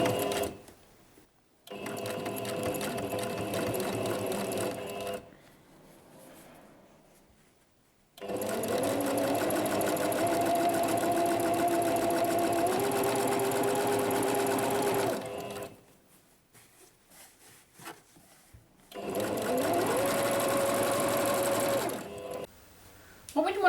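Sewing machine stitching through a thick stack of fabric layers for a popcorn-square bag, running in three long bursts of labored mechanical whirring separated by quiet pauses, close and fairly loud.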